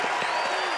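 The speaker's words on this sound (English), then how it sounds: "Derek Carr comes out of the game to a standing ovation from this sold-out crowd" A sold-out college football stadium crowd gives a standing ovation as Fresno State quarterback Derek Carr leaves the game, a broad, steady roar of distant clapping and cheering with a broadcaster talking over it.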